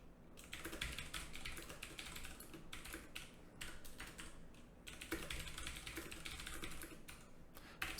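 Haskell code is typed on a computer keyboard in a quiet room, the keys clattering in quick, continuous bursts with a short pause near the middle.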